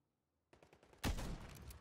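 Video game gunfire starts with a quick run of light taps, then a loud burst of shots sets off a sustained rattling roar that fades slightly toward the end, with no speech.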